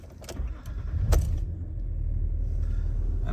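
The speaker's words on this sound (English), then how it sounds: "And we can start the car," Keys jangle and click, then a Land Rover engine cranks and catches, settling into a steady low idle rumble up close.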